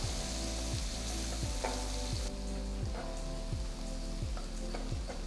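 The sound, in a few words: chopped onions and green chilies sautéing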